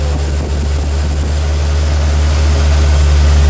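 Car engine from a Thunderbird 5.0 with a belt driving an added alternator, cranking over and then running with a steady, loud low drone and a faint whine in the belt area, close by and continuous.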